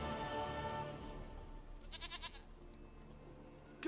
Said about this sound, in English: There, I got you, you stupid goat.